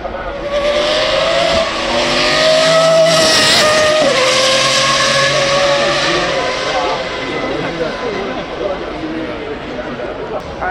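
A Toyota GT3 race car climbs the Goodwood hill, its engine note rising through the gears and sweeping past loudly before fading, while a commentator talks over it throughout.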